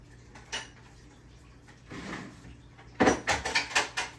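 A metal roasting pan holding a herb-roasted turkey is shifted across a kitchen counter, giving a few scattered scrapes and then a quick run of close clanks and knocks.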